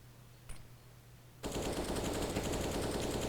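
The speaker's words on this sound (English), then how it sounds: "Gunfire being exchanged onto B now," Rapid automatic gunfire from a Counter-Strike: Global Offensive match erupts after a quiet stretch with one faint click, then continues as a dense, rattling burst of shots.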